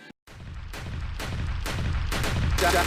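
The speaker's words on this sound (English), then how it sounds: "Shots fired." Sharp burst of gunfire from a sound effect, one loud crack followed by a rapid series of booming shots that swell and overlap, ending in a dense rumble.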